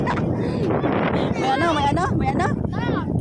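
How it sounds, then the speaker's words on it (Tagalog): Steady wind buffets the microphone with a low, rumbling roar, while people talk over it throughout. "Mahangin nga dito"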